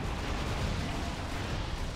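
Lascannons on a Land Raider Phobos firing in the Dawn of War 2 strategy game, a dense rumbling barrage of booms and blasts blending into a continuous roar, no talking.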